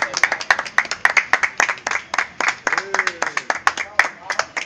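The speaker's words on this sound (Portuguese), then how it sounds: "Palmas para a Bandeira." A small audience at a bistro poetry evening claps in sharp, distinct, somewhat rhythmic strikes, with voices talking and calling out alongside the clapping.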